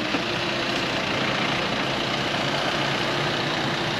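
A Renault Master service van with a built-on body idles steadily, a low continuous diesel-like engine drone, close and even throughout with no talk.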